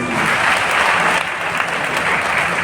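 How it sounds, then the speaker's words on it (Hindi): Steady applause from a crowd at a Hindu cow-devotion religious discourse, dense and continuous clapping at a fairly loud level throughout. "ताली बजाइए दादाजी"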